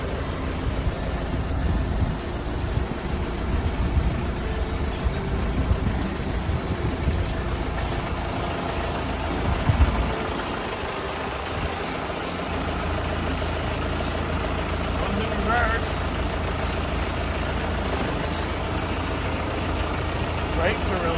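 Isuzu Hilander engine idling steadily after being started up, a continuous low rumble held throughout, with a brief louder clunk partway through.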